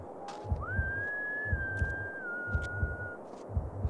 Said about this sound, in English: He's whistling like he's all happy and stuff.